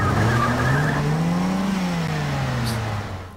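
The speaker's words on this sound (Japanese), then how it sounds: "軽トラそんな音するか。" Kei truck engine in the Dreamcast game SNOW, a loud close motor drone with a rising then falling pitch and a tire-squeal-like whine, fading slightly at the end.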